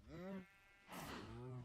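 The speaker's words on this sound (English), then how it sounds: "Get out of my face, cow." A cow in the video game Minecraft gives two drawn-out moos with a gap between them, heard close and fairly quiet, while someone talks.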